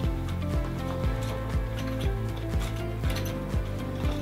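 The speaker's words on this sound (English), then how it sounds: "I'm going to take my ball head and unscrew that" A ball head is unscrewed from a Promaster XC tripod, producing a close, regular series of ratcheting clicks about twice per second over a faint mechanical hum, with no talk.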